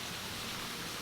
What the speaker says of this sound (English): Looks like the rain's starting to die down just a little bit